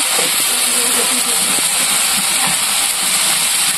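Chopped garlic and green chilli hit hot oil in a pan of chicken masala, giving a loud, steady hiss of sizzling that holds without a break, with faint kitchen clatter underneath.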